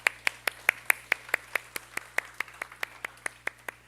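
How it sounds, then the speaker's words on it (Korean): A small group of teenagers at a church youth worship service claps in a steady, evenly spaced rhythm, sharp distinct claps repeating at a moderate tempo in an otherwise quiet room. "우리 하나님께 영광의 박수 한번 올려드릴까요?"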